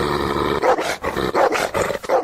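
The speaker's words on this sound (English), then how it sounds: "that's a mighty big dog you got there" A big dog growls and roars in a loud, continuous, rumbling burst lasting about two seconds, with several surging pulses, staged as a sound effect in a radio comedy show.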